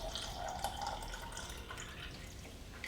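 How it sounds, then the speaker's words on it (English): Water is poured into the main body of a Philips Avent baby food steamer, a soft continuous trickle and splash that stays close and fairly quiet for a few seconds. "So I'm actually going to put water right into the main body here."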